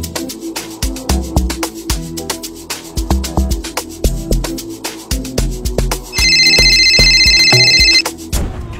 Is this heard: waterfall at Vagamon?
no